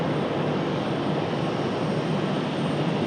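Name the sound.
jet aircraft departing Raleigh Durham airport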